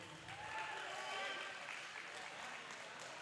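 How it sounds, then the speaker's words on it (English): Audience applause at a strongman competition for the under-90 kg men's class, a steady wash of clapping from a crowd at moderate distance with voices mixed in, holding level for about three seconds. "round of applause everybody."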